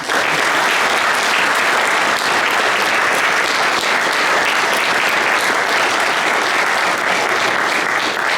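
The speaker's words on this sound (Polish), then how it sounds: "Jeszcze raz wielkie brawa Zbigniew Budowski." A gala audience in Olsztyn, marking 65 years of honorary blood donation, gives a sustained, even burst of applause that stays full and loud from start to finish without talk.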